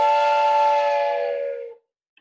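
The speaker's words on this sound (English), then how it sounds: "Diana, Priska, I need my train whistle." A handheld train whistle gives one loud, steady chord-like blast lasting close to two seconds before cutting off, followed by near silence.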